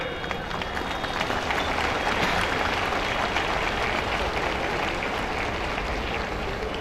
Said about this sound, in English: Let's give a big round of applause for the dignitaries on the dais.